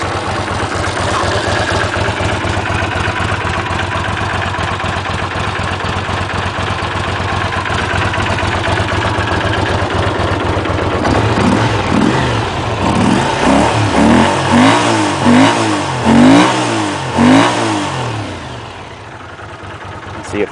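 A Honda CX500 motorcycle engine runs after a CDI change, not yet at full temperature: a steady idle for several seconds, then a series of loud revving blips rising and falling before settling back down, with occasional talk nearby.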